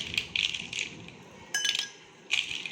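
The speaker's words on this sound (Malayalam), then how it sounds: "നമുക്ക് ഇതിലോട്ട് ഐസ് ക്യൂബ് ഇട്ട് കൊടുക്കാം" Ice cubes drop into a glass of hibiscus juice, giving several separate bright clinks and rattles spread over a few seconds against a quiet background.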